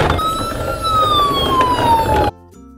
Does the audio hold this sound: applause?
no